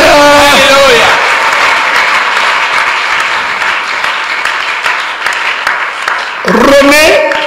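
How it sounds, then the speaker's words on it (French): Loud, dense applause from a church congregation fills the stretch between two short bursts of voice at the start and end. "Est-ce que quelqu'un peut applaudir pour Jésus?"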